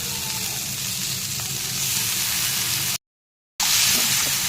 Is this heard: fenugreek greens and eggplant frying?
yes